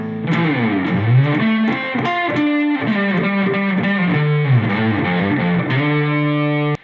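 A distorted electric guitar plays part 1 of the solo at full speed, with a quick run of bending, sliding notes held loud and continuous, then an abrupt stop.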